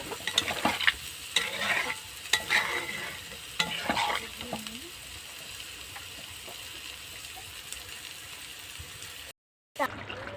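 Water is poured into a sizzling pan of curry, giving faint gushing and bubbling with scattered stirring clatters, before the sound briefly cuts out near the end.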